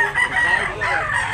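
A rooster crows at a cockfowl market in Tabunok, Talisay, Cebu, a loud, close, sustained crow running continuously for over a second with faint market background beneath.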